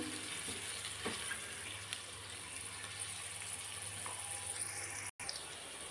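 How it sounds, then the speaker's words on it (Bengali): Onions frying in a pan for a Bengali broiler chicken kosha curry, giving a soft, steady sizzle close by with a few faint stirring knocks and a brief dropout near the end, no voices. "দেখেন পেঁয়াজটা আমার ভাজি হয়ে গেছে"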